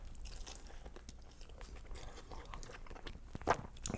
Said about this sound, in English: That edge cheese crunch.